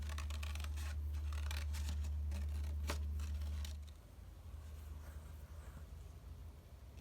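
Scissors snip through a paper card in a quick run of crisp, close cuts, then the cutting stops and only a quieter room background remains.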